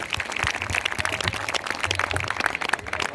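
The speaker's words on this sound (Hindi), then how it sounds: "उस बेटी के लिए एक बार जोरदार तालियां बजाइए।" Audience at a Hindi poetry gathering in Agra clapping for a young girl, a dense, steady burst of many hands applauding close by without pause.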